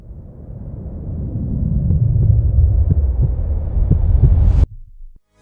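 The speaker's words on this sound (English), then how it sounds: "So we add a heartbeat and the rising sound cuts off at the moment of the crossover and acceleration." A heartbeat sound effect in a video edit, with low thumping beats pulsing under a steadily rising rumble that swells over several seconds and then cuts off abruptly, leaving a brief quiet tail.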